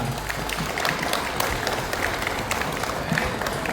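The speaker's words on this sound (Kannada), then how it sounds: "ಜೋರಾಗಿ ಬರಲಿ ನಮ್ಮೆಲ್ಲ ಕಲಾವಿದರಿಗೆ ನಿಮ್ಮೆಲ್ಲರ ಚಪ್ಪಾಳೆಯ ಜಯಂಕಾರ" A theatre audience applauds drama artists after a stage play, producing a sustained, dense wash of many hands clapping that stays fairly even throughout the clip.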